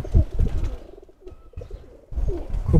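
A pigeon of a prized racing breed coos nearby, low throaty rolling calls in two bursts separated by a quieter pause, loud and close with no one speaking.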